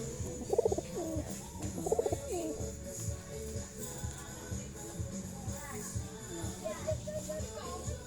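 Pigeons cooing up close around a home coop with young birds, low soft throaty coos repeating in short bursts, with a person talking quietly underneath.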